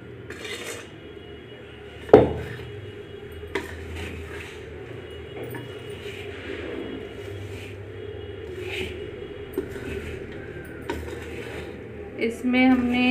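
Laddu mixture of atta, sonth and ghee stirred quickly in a pan, with scraping, clinking utensil sounds continuing through the clip and one sharp knock near the start.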